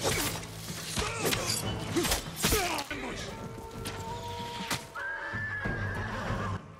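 Horse neighs and whinnies in the Ghost of Tsushima video game, with hoof clip-clops, impacts and game sound effects around it, fairly loud and close.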